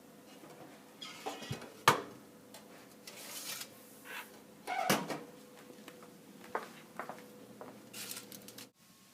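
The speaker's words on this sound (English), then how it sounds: "use the hot pad to open the toaster oven door and pull out the tray." A toaster oven door swung open with a hot pad and its metal tray pulled out after cooking chicken nuggets, a few close clunks, a sharp knock and a sliding scrape in a quiet kitchen.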